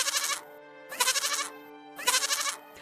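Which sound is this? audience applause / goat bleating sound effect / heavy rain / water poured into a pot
goat bleating sound effect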